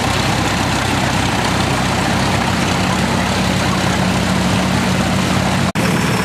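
A 1961 International 340 diesel tractor idles with a loud, steady low rumble, close by, broken by one brief dropout near the end.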